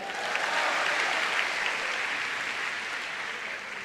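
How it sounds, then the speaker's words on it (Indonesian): Dense, continuous applause from a crowd at an Indonesian stand-up comedy show, loud and even for the whole stretch, with no speech over it. "Ya boleh tepuk tangan, boleh tepuk tangan."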